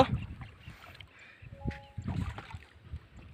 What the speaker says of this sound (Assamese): আমি এতিয়া ব্ৰহ্মপুত্ৰ এৰাসুতি পাৰ হৈ আছোঁ নাওত